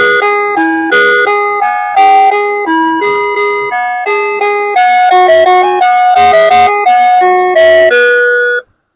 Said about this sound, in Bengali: আমি যদি একটু আপনাদেরকে বাজায় দেখাই তাহলে আপনারা বুঝতে পারবেন এই কলিং বেলটা